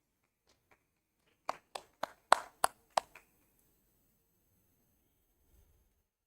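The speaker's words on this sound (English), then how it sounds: "Round of applause, please" Brief applause at a ceremony, about six or seven distinct claps close to the microphone over roughly two seconds, then quiet.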